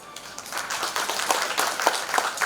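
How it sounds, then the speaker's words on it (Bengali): An audience at an event breaks into applause, a dense run of many overlapping hand claps that swells slightly, heard from within the crowd without talk. "তাদের জন্য একটা বিরাট বড় হাততালি"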